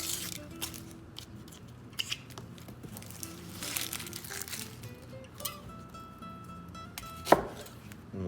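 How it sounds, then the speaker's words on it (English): A knife cutting an onion into quarters on a board, giving a few sparse, quiet chops and taps at irregular intervals with one sharper knock near the end. "we'll take the onion and cut it each half into quarters"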